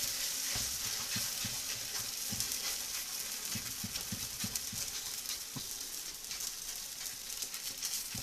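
Meloui flatbread browning on a hot pan or griddle plate, a soft continuous sizzle with scattered light taps and scrapes from turning, fairly quiet and close, with no talking.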